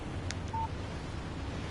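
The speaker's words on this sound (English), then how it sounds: "Text message from Barry." A short in-game phone alert for an incoming text message sounds in Alan Wake Remastered: one brief electronic tone over a quiet background hiss.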